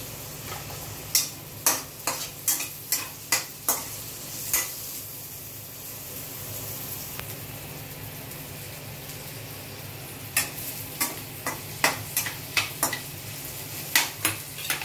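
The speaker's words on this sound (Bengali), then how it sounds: "ওই তেলেতেই আর একটু সর্ষের তেল দিয়ে পেঁয়াজ রসুনটা ভেজে নিচ্ছি।" Onion and garlic fry in mustard oil under a low background sizzle, broken by two bursts of sharp, rapid spatula scrapes and taps against the pan, close by.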